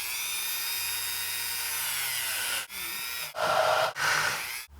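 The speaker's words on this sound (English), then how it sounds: "I'm going to use my Dremel tool and come in here and just try to spin that debris out of there" A Dremel rotary tool spins debris out of bolt threads, giving a close, loud, high-pitched whine that holds steady, then drops out briefly and revs again in short bursts.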